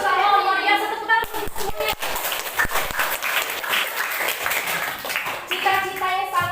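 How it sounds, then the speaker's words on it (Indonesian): A class of seventh-grade children claps loudly together in a classroom, a burst of quick, sharp hand claps, with children's voices calling out before and after the clapping. "Tepuk tangan."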